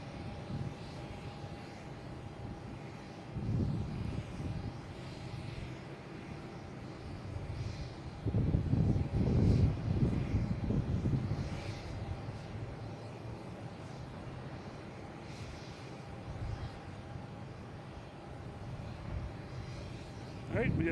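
An Airbus A321 jet at Boston Logan International Airport, its engine rumble rising in surges and peaking in the middle, fairly distant, with a voice talking over it at times.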